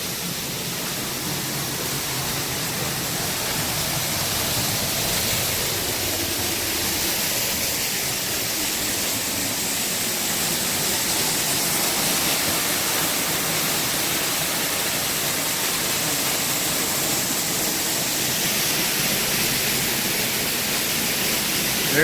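Steady, full roar of falling water, broad and constant from a nearby waterfall in Shenandoah National Park, with no voices.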